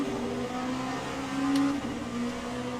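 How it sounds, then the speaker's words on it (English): Hypercars race off in a Le Mans endurance racing game, their engines droning and revving steadily at mid distance, with one brief high whoosh partway through. "There go the Hypercars."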